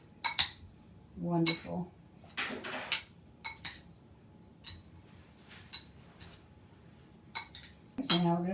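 Corn salad with onion is stirred in a bowl: a spoon clinks and scrapes against the dish in irregular bursts, with soft rustling between strokes and someone briefly speaking.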